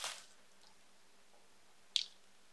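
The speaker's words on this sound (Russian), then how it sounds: "После проверки пульт упаковывается в пузырчатую пленку для защиты от механических повреждений при транспортировке" A Toshiba CT-90296 remote control is wrapped in bubble wrap. Quiet plastic rustling at the start is followed by a single sharp crinkle near the end, with near-silence between and no talking.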